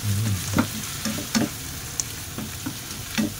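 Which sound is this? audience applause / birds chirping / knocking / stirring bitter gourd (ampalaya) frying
stirring bitter gourd (ampalaya) frying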